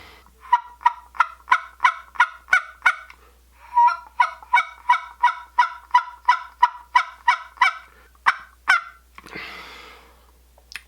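Woodhaven tube turkey call played by a hunter, producing a long run of rhythmic raspy yelps in steady series with brief pauses, close and clear, ending in a breathy hiss.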